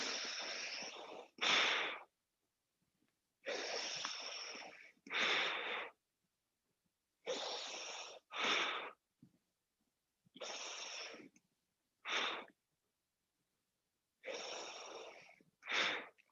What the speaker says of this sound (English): Just inhale and exhale.